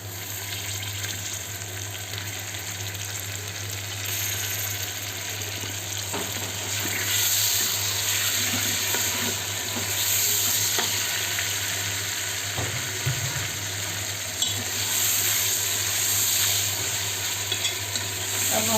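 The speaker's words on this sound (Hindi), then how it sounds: "अब हम चिकन को अच्छी तरह फ्राई करेंगे" Chicken frying with onions in a pan, a steady close sizzle and crackle running continuously throughout, with faint stirring scrapes and no talking.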